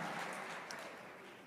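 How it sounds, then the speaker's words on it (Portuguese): A church congregation applauds during a worship service, a faint, steady wash of many hands clapping together without a break. "Vamos aplaudir o Senhor."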